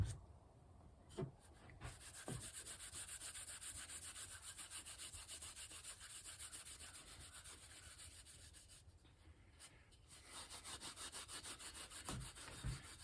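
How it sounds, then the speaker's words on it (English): Double-aught steel wool is rubbed firmly into a wooden hammer handle, giving a steady, close scratchy scrubbing that runs almost without pause and breaks briefly twice, with no voices. "Take you some double-aught steel wool. Rub it right into your handle."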